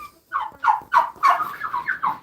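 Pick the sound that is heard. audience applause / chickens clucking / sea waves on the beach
chickens clucking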